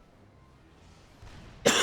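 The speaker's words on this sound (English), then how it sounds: "Sorry for the cough." One sharp, loud cough from a nearby commentator breaks a quiet stretch of soft background hum at the very end.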